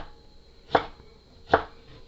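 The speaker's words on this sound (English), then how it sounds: "And remember, chop as fine as possible." Two sharp knife chops on a cutting board, spaced under a second apart, as vegetables are finely chopped with a sharp knife for vegan ceviche; close and clear against a quiet kitchen.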